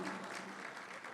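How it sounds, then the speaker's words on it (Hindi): Listeners at a Republic Day Urdu mushaira poetry recital in Delhi applauding, a soft, continuous wash of distant clapping from a crowd. "तालियां"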